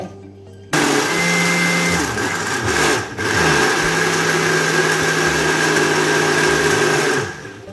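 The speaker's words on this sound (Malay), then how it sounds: "Kita blender halus. Kalau boleh tak ada serat." A blender switches on with a click and runs loudly for several seconds, grinding ingredients for Johor laksa smooth, its motor whirring and grinding with brief dips in pitch before stopping.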